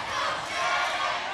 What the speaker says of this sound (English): And the crowd behind one half of Inc. Shannon Moore.